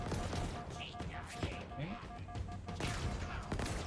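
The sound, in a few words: hand cannon gunfire in a video game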